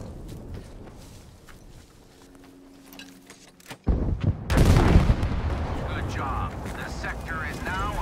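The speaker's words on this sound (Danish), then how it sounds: "Der bliver skudt på den her bitte bygning her." Gunfire and heavy blasts hit a small building in Battlefield V, quiet distant shots and footsteps giving way to a sudden loud burst of explosive fire that continues roaring, with a voice speaking early on.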